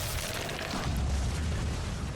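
Explosion set off by a character build in the game Hellslave 2, a dense, steady boom with a rumbling low end that fills the whole moment without a break, loud and close.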